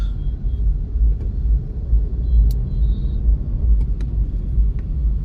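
Dense Delhi road traffic starts moving after a red light, a steady loud low rumble of cars and engines close by with occasional faint brake hisses and horn-like tones, no voices.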